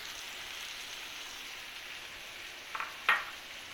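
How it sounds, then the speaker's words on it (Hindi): Tomatoes go into minced beef tawa qeema, which gives a faint, steady sizzle, followed by a short, sharper splash of sizzling near the end. "अभी हम टमाटर डाल रहे हैं।"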